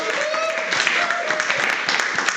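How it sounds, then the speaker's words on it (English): Audience applause at a speaking retreat, steady, fairly close clapping with some whoops and voices mixed in throughout. "Please give a round of applause for Rebecca P."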